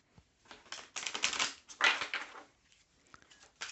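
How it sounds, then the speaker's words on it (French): Tarot cards are drawn from a deck, giving soft close shuffling and sliding rustles in a few quiet bursts with short pauses between. "Comme d'habitude, je tire 3 cartes."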